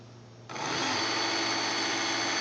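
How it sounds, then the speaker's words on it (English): An electric pump motor from an ABS module assembly kicks on abruptly and runs with a loud, steady high-pitched whir, held in hand close up. "Man, that is a strong motor."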